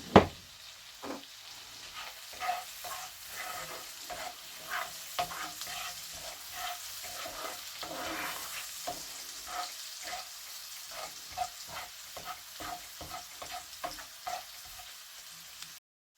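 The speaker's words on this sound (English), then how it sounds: "our onions are becoming translucent" Onions fry in a pan for sage and onion stuffing, a soft continuous sizzle broken by repeated stirring scrapes and clinks, close and fairly quiet with no talking.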